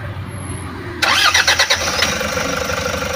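A Toyota Hi-Ace that had trouble starting cranks and catches after about a second of near quiet, then settles into a steady, close idle.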